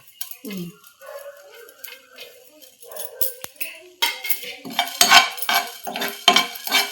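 Spoon stirring mushrooms, turmeric, garlic and spices frying in a pan, with clinks and scrapes of utensil on metal, quiet at first and then busier and louder, with a faint sizzle underneath.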